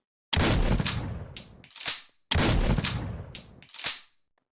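Two loud M870 pump-action shotgun blasts in a video game, each a sharp broadband boom with a decaying tail followed by the quick double clack of the pump being racked, evenly spaced about two seconds apart.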